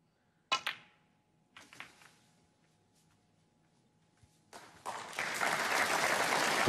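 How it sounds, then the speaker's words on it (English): At the Scottish Open 2017 snooker final, a couple of sharp knocks of balls are followed by a swelling burst of audience applause that grows louder and fuller toward the end. "he got a bit of applause for this shot"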